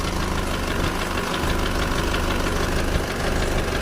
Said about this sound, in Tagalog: Nagpapaandar na po ng D-Max. Ayan na yung andar niya.